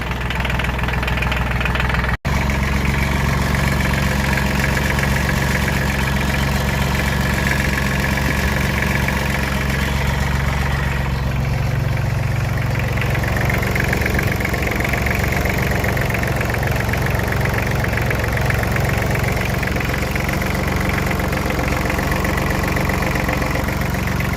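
Daedong L3301 tractor engine idling steadily at close range, a continuous low rumble with a faint knocking texture, running alone without any voices and holding an even level throughout after one brief click near the start.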